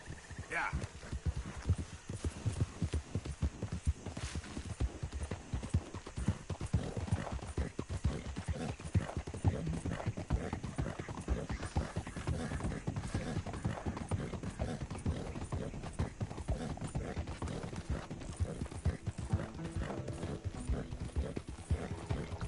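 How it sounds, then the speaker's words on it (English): Horse hooves clip-clop at a steady gallop in the video game Red Dead Redemption 2, a continuous rapid rhythm throughout, moderately quiet with occasional voices over it. "Por que o tio tá correndo com o cavalo"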